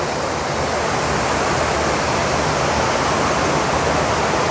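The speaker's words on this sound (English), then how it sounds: "The water, just some of it trickling, some of it spilling over and rushing." Water spilling over ledges and rushing through the concrete and granite pools of the Fort Worth Water Gardens, heard as a loud, constant, dense roar with no breaks.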